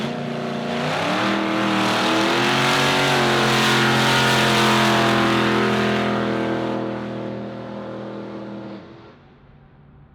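A Subaru WRX driven hard in a race roars close and loud, the engine note climbing and holding at high revs for several seconds before fading away as the car pulls off.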